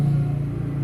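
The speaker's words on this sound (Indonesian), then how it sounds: "maaf tadi ada suara motor" A motorcycle engine drones steadily in the background, a low continuous rumble heard faintly indoors with no talk over it.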